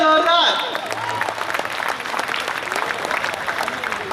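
Audience at an evening Hindi poetry gathering (kavi sammelan) clapping to welcome the district collector, a dense wash of applause with voices mixed in over about four seconds, loudest at the start.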